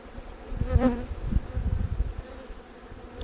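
Honeybees buzz around beehives started from two-frame splits, a close droning hum with individual bees swelling past the microphone, steady and fairly loud throughout.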